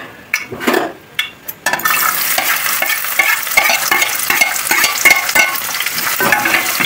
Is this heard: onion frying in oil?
yes